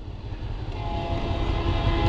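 A train passes a level crossing as a driver waits in a car, a steady loud rolling rumble that builds slightly and holds throughout, with no talk.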